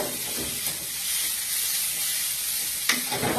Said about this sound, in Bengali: তো কাশ্মীরি লঙ্কার গুঁড়োটা জাস্ট কালারের জন্য একটু ওপর থেকে দিয়ে নিলাম, দিয়ে নাড়তে থাকতে হবে।